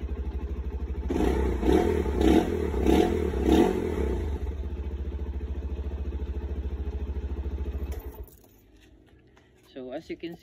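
A Rusi Flash motorcycle engine running again after a restart, a steady close idle with a brief rise in revs early on, then a cut to quieter sounds near the end.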